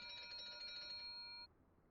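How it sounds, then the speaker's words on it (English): Bells ringing aboard the LZ129 Hindenburg airship in Microsoft Flight Simulator 2020, a faint rapid metallic ringing that stops abruptly after about a second and a half. "A lot of bells"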